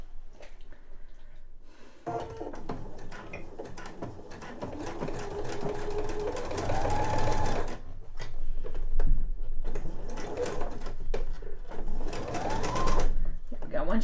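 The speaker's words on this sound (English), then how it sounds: "I'm just going to sew from one end to the other with the raw edges tucked in there" A sewing machine runs in bursts, top-stitching the opening of a small fabric eye pillow closed with the raw edges tucked in, its motor whirring up and down in pitch close by while a person talks over it.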